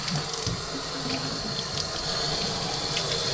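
Tap water runs continuously into a sink, a loud, steady splashing stream with faint clatter of Bissell vacuum parts being rinsed.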